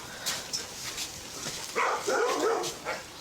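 Several dogs bark and whimper indoors at a house, with short yips and a cluster of higher whining barks in the middle, moderately loud amid background noise.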